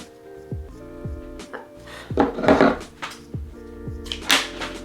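Scissors snip through elastic while a lace scrunchie is being sewn: a series of short, crisp cuts spaced about half a second to a second apart, close up, over a steady tonal background.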